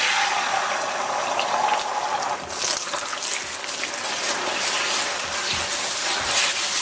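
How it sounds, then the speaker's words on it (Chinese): Beaten eggs hit hot oil in a wok and sizzle loudly and close, a continuous bright crackling hiss that keeps going with small pops and no voices. "油热以后倒入蛋液"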